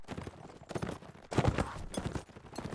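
Video game light-horse hooves clip-clop in an uneven series of knocks, moderately quiet, with some muffled background noise; the hoofbeats sound game-like.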